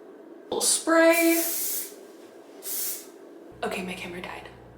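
Aerosol spray on hair, a few short close hissing bursts, with whispered speech and breathy sounds around them in a quiet room.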